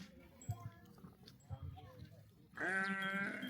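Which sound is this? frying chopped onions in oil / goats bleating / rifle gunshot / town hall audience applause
goats bleating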